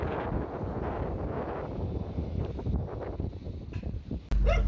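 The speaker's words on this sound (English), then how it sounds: "Gosh, that wind was fierce." Fierce wind buffeting the microphone at Arbroath fishing port, a loud continuous roaring rumble with gusty swells, ending in an abrupt thud.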